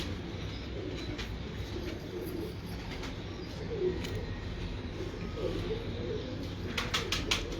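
Sialkoti pigeons in a loft cooing and flapping their wings, low coos running steadily with sharp wing-beat bursts near the end, under faint background noise.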